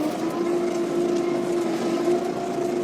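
A tractor engine drones continuously in a field during cultivation, a constant low hum, close and unvarying, with no talking.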